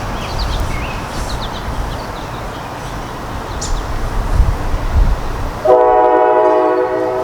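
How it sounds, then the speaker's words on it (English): A train rumbles past close by in Portsmouth, steady and loud, then its horn blasts in a sustained, harmonic chord near the end. "Here in Portsmouth, you're going to hear trains"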